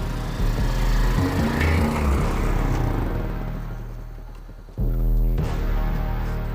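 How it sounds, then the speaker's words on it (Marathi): A motorbike engine idles with a steady low throb, then cuts briefly and restarts with a strong rumble, as if kick-started, before pulling away; loud and close with no talk. "गाडीला किक मारून निघ."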